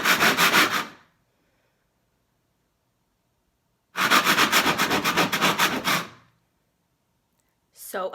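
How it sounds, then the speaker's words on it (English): Scraping during a basement remodel comes in two rhythmic bursts of rapid, rasping strokes with silence between them and a brief third burst at the end. "Much faster scraping this time."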